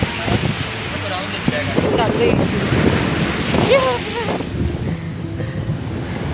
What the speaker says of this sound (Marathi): समुद्र आवाज येतो ना असा भयानक